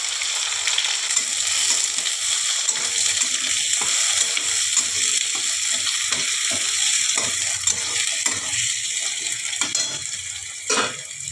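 Chopped onion frying with whole cumin in a pan gives a constant loud sizzle, with light stirring and scraping at intervals, close by and without voices throughout.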